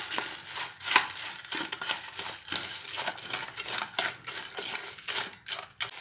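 Lays potato chips are tossed with tomato ketchup in a bowl, producing loud, close, repeated crunching and scraping with a spoon clinking against the dish in an irregular rhythm.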